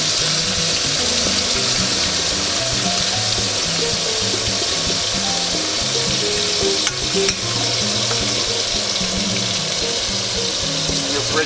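Garlic frying in melted butter alongside steak in a hot pan, a constant close sizzle with light bubbling and an occasional clink of a utensil.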